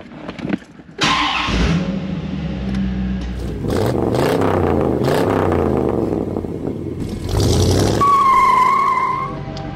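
A 1996 Chevrolet Corvette C4 Collector Edition's V8 starts with a crank and bark, then revs and pulls away loudly, rising and falling through the gears.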